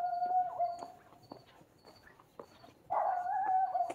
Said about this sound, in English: Dumb dogs.